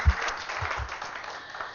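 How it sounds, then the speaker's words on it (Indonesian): Church congregation applauding during a sermon service, a brief burst of scattered clapping from many hands in a reverberant hall, moderately loud and unaccompanied by speech. "Tepuk tangan buat Tuhan Yesus"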